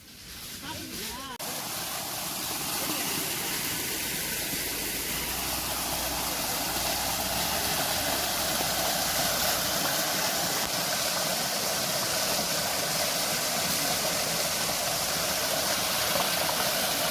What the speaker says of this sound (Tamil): ஒலை கொதிச்சிச்சு.